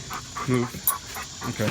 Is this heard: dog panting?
yes